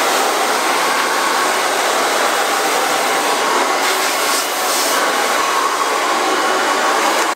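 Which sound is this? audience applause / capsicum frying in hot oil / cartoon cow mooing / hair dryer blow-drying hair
hair dryer blow-drying hair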